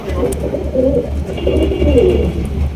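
White fantail pigeons coo in low, repeated throaty phrases close by, a soft rolling rhythm over faint background noise.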